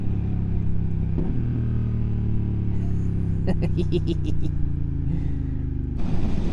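A 2025 BMW F900R motorcycle engine idles with a steady low rumble close by, then a brief rapid burst of revving climbs before dropping back to a deep idle.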